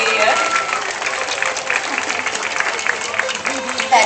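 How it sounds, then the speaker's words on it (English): A zoo crowd applauds Sparky the sea lion after a Zoolympics show, with dense, steady clapping from many hands lasting throughout and a brief swell at the end. "How about a big round of applause for Sparky?"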